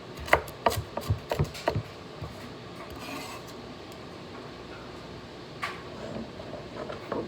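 Vegetables are chopped on a board in a home kitchen, with a quick run of knife taps near the start, followed by quieter scraping and a few scattered knocks.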